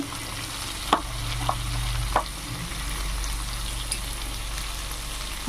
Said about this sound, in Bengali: রসুন দিয়ে দিলাম পেঁয়াজ কুচি দিয়ে দিলাম এগুলো ভেজে নেব